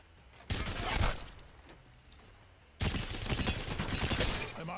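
A Triple Take sniper rifle firing in Apex Legends Mobile gives two loud, broadband blasts a couple of seconds apart, each followed by a ringing tail, with no talk.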